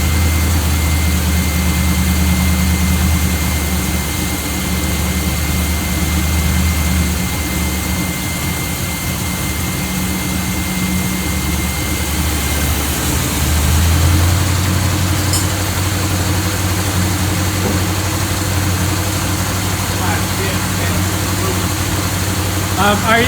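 A 1984 Chevy Blazer engine idles steadily with a loud, continuous low rumble that shifts slightly in pitch partway through, while people talk nearby.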